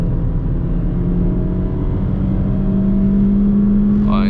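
Peugeot 208 1.6 automatic (2024) cruising on a highway, its engine a steady low drone blended with road and wind noise inside the cabin, rising slightly in pitch toward the end.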